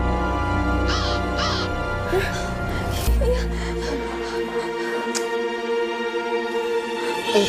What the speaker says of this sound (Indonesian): Itu burung gagaknya, Bunda